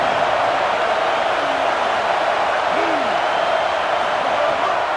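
Steady stadium crowd roar in the College Football 27 video game during a road matchup against Oklahoma, a dense continuous wash of massed voices, loud and unbroken, with a couple of faint whistle-like tones rising through it.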